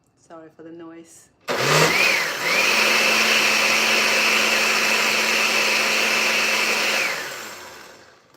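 A kitchen blender spins up loudly on a mix of mangoes and yogurt after a few spoken words, holding a steady whirring roar for several seconds before winding down.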